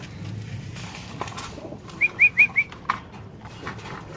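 A pigeon coos in a short run of four soft, rising notes over quiet background noise at a pigeon market, with faint rustling nearby.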